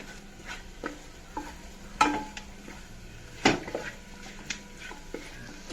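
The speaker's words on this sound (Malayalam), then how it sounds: "ബീഫ് വറുത്ത് വെച്ചത് ഇതിലിട്ടിട്ടുണ്ട്. നല്ലോണം ഒന്ന് മിക്സ് ചെയ്യുക." Fried beef being stirred in a pan for beef chilli, soft scraping and clinks of a spoon against the pan over a faint background, with a few sharper knocks.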